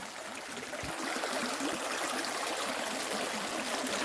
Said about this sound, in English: I'm on the creek in the middle of the bush.